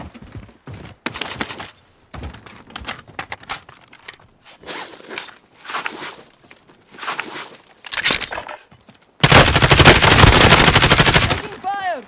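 Rapid video game gunfire in a squad shooter, scattered bursts and single shots early, then a long, loud, sustained automatic burst near the end, with players talking throughout.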